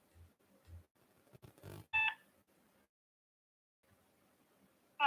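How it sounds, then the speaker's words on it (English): Telephone dialing for a commercial real estate cold call: faint clicks and handling noise, then a short bright multi-tone keypad beep, a quiet gap, and another tone burst at the very end, all at low level. "I'll make another one of these phone calls and see what he says."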